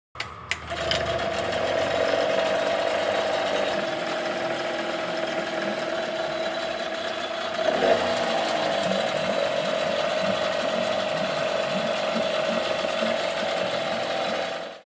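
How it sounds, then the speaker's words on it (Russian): A rusty, salt-worn Tohatsu 8 outboard motor runs steadily after repair, its idle speed just adjusted down, a close, continuous buzzing drone with a brief bump in pitch midway before it cuts off at the end. "Мотор работает хорошо."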